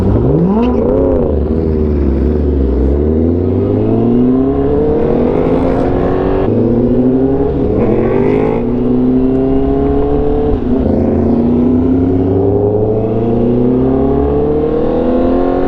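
A Porsche Turbo S engine revs repeatedly on a street, with loud, close rising and falling sweeps that climb and drop again and again, and no talk.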